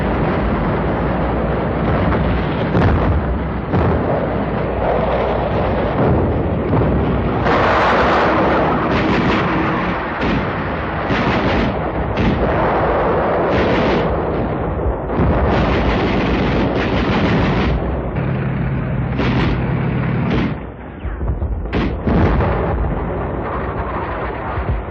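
Naval barrage supporting the Saipan invasion, with landing boats heading for shore: dense, continuous rumbling artillery fire with repeated heavy booms and blasts, loud and sustained throughout with no voices.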